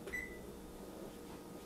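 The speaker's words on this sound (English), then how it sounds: "So first we'll turn the oven off." A laboratory drying oven, used to dehydrate magnesium sulfate on trays, is switched off with a short electronic beep over a steady fan hum that continues alone.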